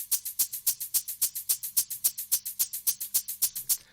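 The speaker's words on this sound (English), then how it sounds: "Right now I have the shaker that without any compression and EQing, it sounds like this." A dry shaker with no compression or EQ plays a steady, even rhythm of bright, hissy shakes, about six per second, alone and close.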